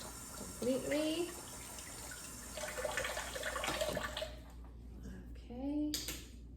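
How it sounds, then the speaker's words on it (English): Water running from a tap as nail implements are rinsed under it, a soft continuous splash at moderate distance, with a person talking intermittently over it. "These get brushed thoroughly and rinsed completely."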